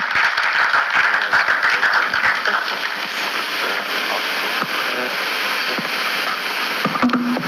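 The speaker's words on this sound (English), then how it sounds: "A round of applause until he gets here." Audience applause at a gathering, sparse-to-moderate clapping that is strongest at the start and thins into scattered claps and rustling.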